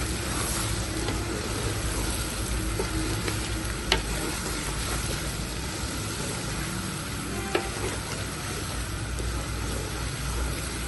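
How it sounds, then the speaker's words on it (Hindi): Ginger garlic paste frying in a pot with green chillies for beef biryani, a constant busy sizzle with a couple of brief clinks from a utensil. "अदरक लहसुन को भी मैंने अच्छे से भून लिया।"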